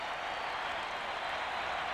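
A Minnesota home crowd at Game 7 of the 1991 World Series, Braves at Twins, roaring and urging a strikeout: a steady, distant wash of crowd noise with no break.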